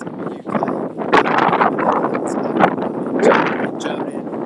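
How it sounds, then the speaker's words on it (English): Wind gusts buffet a microphone outdoors, producing loud rumbling, uneven bursts of blustery noise throughout, mixed with a person's voice talking. "Sorry, it's a little bit windy down here."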